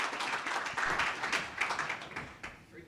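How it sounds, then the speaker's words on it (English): Audience applause at a summit kickoff event, a fairly quiet, soft patter of clapping from a modest crowd, steady for a few seconds then thinning out. "Please join me in a round of applause"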